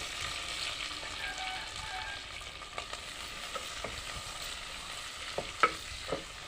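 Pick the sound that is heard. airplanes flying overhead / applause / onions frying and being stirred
onions frying and being stirred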